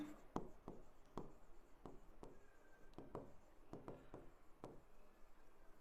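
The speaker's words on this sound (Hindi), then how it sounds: "मैं लिख देता हूं बोथ" Marker or chalk writing on a board during a biology lesson, a quiet series of short scratchy strokes in an irregular rhythm, close and faint.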